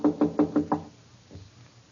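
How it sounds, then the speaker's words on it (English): Five firm knocks on a closed office door in an old-time radio drama, evenly spaced and close, then a faint shuffle as the knocking stops. "His door's closed. We better knock."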